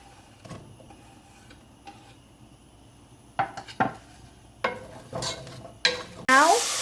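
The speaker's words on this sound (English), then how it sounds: "drizzle oil into the pot. Then add the chopped onions and stir them for 2 minutes." Chopped onions are stirred in hot oil in a pot over high flame, with scattered metallic scrapes and knocks over a low sizzle, ending in a sudden loud burst of hissing.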